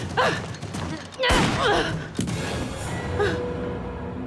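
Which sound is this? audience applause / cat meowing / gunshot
gunshot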